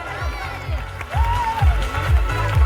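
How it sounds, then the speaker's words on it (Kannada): Children clapping at a school prize ceremony, a steady wash of applause with rhythmic thumps and scattered voices of the crowd throughout. "ಮಕ್ಕಳೇ ಜೋರಾಗಿ ಚಪ್ಪಾಳೆ ಬರಲಿ."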